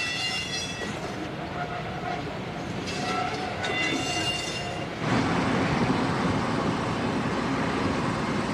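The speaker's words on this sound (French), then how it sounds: "C'est la 66 506, la toute dernière de la série, qui part au le-pied vers Charleville-Mézières." SNCF BB 66000 diesel locomotive no. 66506 pulls away light engine under catenary, its engine drone rising and growing louder partway through, with some tonal whine and rail noise, steady and fairly near.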